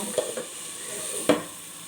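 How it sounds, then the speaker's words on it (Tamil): Turmeric powder and salt being sautéed in a pan while making pirandai thuvaiyal: a soft steady sizzle, with a few scraping stirs of a spoon, one louder stir near the end. "மஞ்சள் தூள் உப்பையும் போய் போட்டுக்கோங்க போட்டு நல்லா வதக்குங்க"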